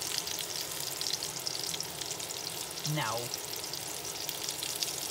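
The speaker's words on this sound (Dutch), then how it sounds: "Ik sta te koken." Food sizzles steadily in a pan while someone cooks outdoors, a constant crackling hiss with wind in the background and a brief spoken word mid-way.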